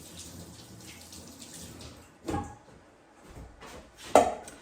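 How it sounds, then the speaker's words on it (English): Tomatoes get washed under a running kitchen tap, water splashing and hissing close by with uneven bursts as the produce is handled, plus a couple of sharper knocks, no talking. "So I'm just going to wash these nicely, very nicely."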